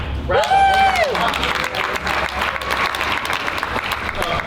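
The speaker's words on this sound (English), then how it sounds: "Everybody give a round of applause" Loud, sustained applause from a large crowd at a live comedy roast, with a brief whoop rising over the clapping near the start.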